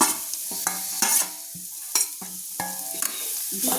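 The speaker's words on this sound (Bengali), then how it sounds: "ফুলকপিগুলোকে ভালো করে আমি তেলের সঙ্গে ভেজে নেব বা আমি তেলের সঙ্গে একটু কষিয়ে নেব" Cauliflower florets fry in oil for paratha filling, a bright hiss cut by repeated clattering stirs of a spoon against the pan, near and fairly loud, no talk.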